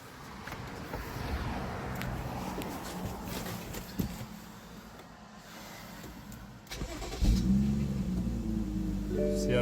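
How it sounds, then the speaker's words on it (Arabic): A BMW engine cranks after a fuel pump replacement, with a whirring starter and rattles, then catches near the end and settles into a loud, steady low idle. "خلينا ندور السيارة وراح تدور"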